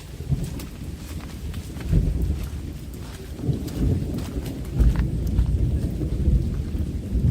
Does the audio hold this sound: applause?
no